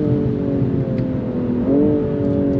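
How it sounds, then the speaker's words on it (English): BMW M240i (2022) engine under hard acceleration, a loud steady drone close by, with a gear shift near the middle where the pitch drops and climbs again, and no talking. "God, those shifts! It's like getting kicked in the back."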